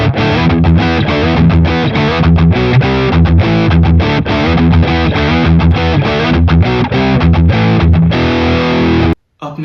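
Loud, heavily distorted electric guitar through a Boss Katana amp's distortion pedal plays a steady run of chords and notes, continuous and dense, cutting off abruptly just before the end.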